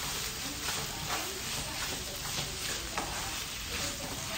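Tomato sauce goes into meat frying in a pan for lasagna, producing a continuous loud sizzle and hiss with soft stirring scrapes throughout.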